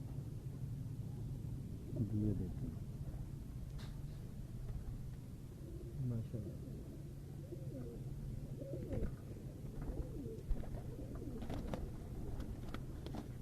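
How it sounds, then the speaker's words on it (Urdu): Lal Pari pigeons on a rooftop in Lahore coo softly and repeatedly in low, throaty bursts over a steady background hum, with faint distant birdsong in between. "یہ بھی لال پری کبوتر ہے"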